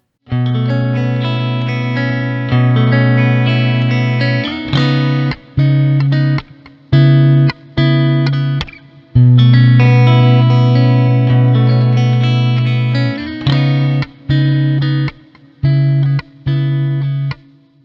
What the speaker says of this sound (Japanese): リバーブも自然なサウンドが特徴的で、中でも自分がよく使うのがこのシルバーライニングスというタイプ